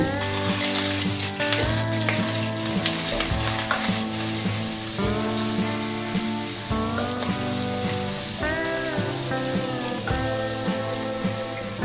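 Crushed garlic and a piece of cinnamon bark sizzle in hot oil for an egg curry, crackling continuously and up close under steady tonal background music.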